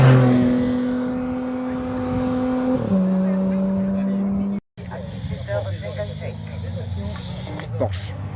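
A Porsche rally car races past on a stage of the Rallye Corse in Corsica. A loud engine note holds high, drops in pitch as the car passes, then gives way to a rougher, fading roar.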